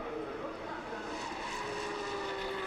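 Porsche Carrera Cup race cars at Le Mans howl as they accelerate off the start, a dense, continuous engine roar with rising pitch, heard at a moderate distance beneath a commentator's voice.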